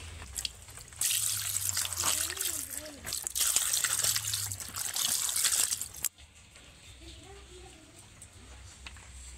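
Raw fish being rubbed and rinsed by hand in water, with splashing and trickling of water that runs loud for about five seconds, then drops to a quieter dribble.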